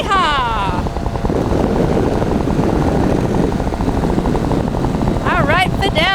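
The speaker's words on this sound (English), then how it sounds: "we're just gonna step on the gas, get going about maybe 60 miles an hour or so, and then just lift right on off the runway" Hang glider trike engine roaring steadily and loudly as the craft accelerates down a runway and lifts off, with whooping voices at the start and end.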